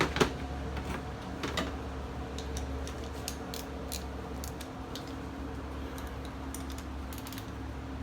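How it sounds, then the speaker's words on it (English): A ratchet tightens the valve cover bolts on a 2000–2005 Honda Civic over a new gasket, with quick faint clicking runs in short bursts over a steady low background hum. "We're going to get our ratchet, we're going to tighten it down."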